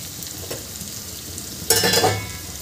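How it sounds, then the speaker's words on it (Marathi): Bottle gourd curry in green masala is stirred in a pan on the stove: a low sizzle runs throughout, then a louder burst of scraping and frying swells near the end, with no voices. "असं अधेमध्ये आपल्याला भाजी परतून घ्यायची आहे थोड्या वेळाने"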